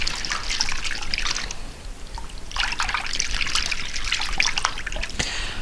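Dish soap being stirred into water, a steady liquid trickle and sloshing that comes in two longer bursts with a short pause between, close and fairly soft, with no voices.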